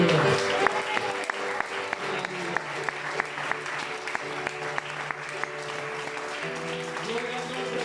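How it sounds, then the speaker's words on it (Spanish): Church congregation applauding steadily for several seconds, with rhythmic claps cutting through a wash of sound and sustained musical tones underneath. "Denle un aplauso al Señor."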